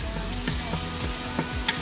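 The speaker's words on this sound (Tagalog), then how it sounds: "So, ito, lulutuin lang natin tong sibuyas." Onions sautéing in a pan, a close, steady sizzle broken by a few spatula scrapes and clinks, with no voices.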